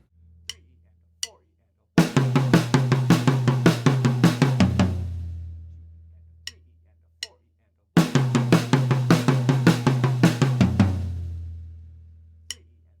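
A drum kit plays a fast 16th-note fill twice, each a rapid run of even hits ending on a ringing crash and low decay, with a few isolated clicks between the fills.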